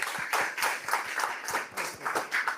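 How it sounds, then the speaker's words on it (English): Small audience at a live coding event applauding a presenter, with fairly close, loud clapping in a brisk, uneven rhythm that swells and dips over a few seconds. "A round of applause for Daniel."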